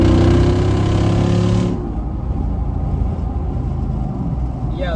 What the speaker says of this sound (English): So I'm gonna downshift into third and punch it.